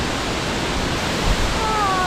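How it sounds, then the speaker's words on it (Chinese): A slender, wide waterfall of modest flow at Manyueyuan Forest Recreation Area gives off a steady, even rushing roar, close and unbroken throughout. "这是属于比较秀气的瀑布"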